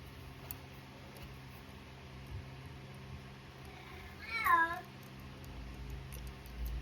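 A single short meow from an elderly cat, faint and somewhat distant, rising out of quiet indoor room tone.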